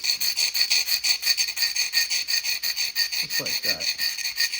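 A carborundum stone rubs back and forth along the edge of a stained glass piece to grind off points, giving rhythmic, close raspy scrapes at a quick steady pace, with a brief spoken remark.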